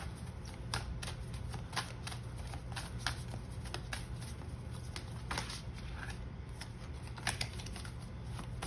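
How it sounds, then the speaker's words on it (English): Tarot cards shuffled by hand, a soft, steady papery riffling and patter that goes on throughout, fairly faint against a quiet background hum. "We'll just pull a couple more cards, see what the vibes are."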